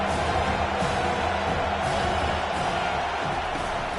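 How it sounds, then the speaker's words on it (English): Home crowd cheering at a football game, a dense continuous roar of many voices, steady and loud throughout. "And how nice is it to have the home crowd going absolutely bananas?"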